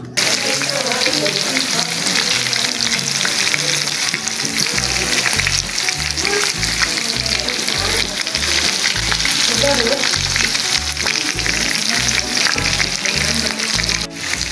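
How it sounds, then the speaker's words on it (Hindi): Chapli kebabs, Peshawari style, frying in oil on a flat tawa griddle, giving a loud, continuous, close sizzle with a regular low thumping beat underneath and no voices. "अब हम ये चपली कबाब जो हैं वो फ्राई कर रहे हैं, यानी कि बना रहे हैं।"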